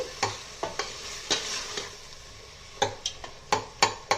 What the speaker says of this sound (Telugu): ఈ పచ్చివాసన పోయేదాకా వేపుకుందాం.